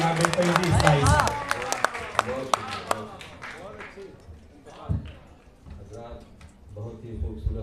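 An audience at an Urdu mushaira applauds to welcome a poet: a burst of clapping near the start that thins out, mixed with crowd noise and a voice talking over it.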